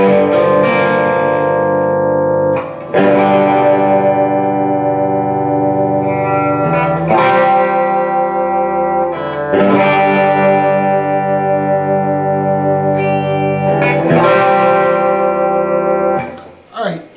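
An electric guitar with distortion plays the bridge of a song: loud, ringing power chords struck in repeated phrases, each held and sustained before the next strum.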